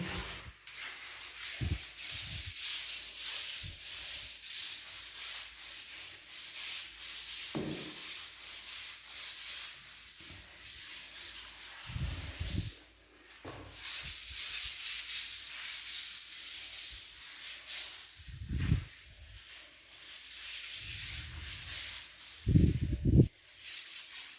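Dirty bathroom tiles being scrubbed clean with a brush, a steady rubbing and scraping texture running throughout with several louder strokes standing out, close by and with no talking.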